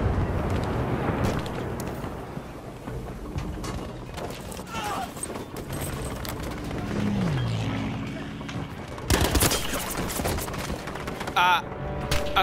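Gunfire in Battlefield 5 crackles through a dense, busy battlefield mix, with a sharp burst of shots near the end, partly under a player's talk.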